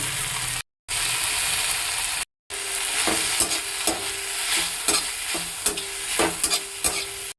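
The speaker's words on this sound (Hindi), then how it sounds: "एबे ऐड करवा काटी रखिथिबा टमाटो को भी किछ समय कुक करेंगे।" Chopped tomatoes and capsicum cook in a pan for pasta, with a steady close sizzle broken by two short gaps, then repeated scraping stirs of a spoon against the pan.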